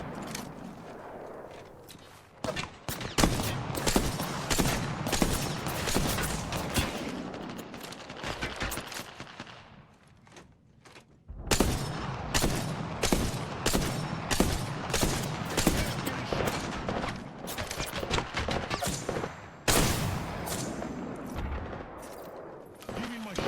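Rapid bursts of video game gunfire in a sniper shootout, clustered volleys of sharp shots with brief lulls, loud and dense throughout, with a player's voice talking under the action.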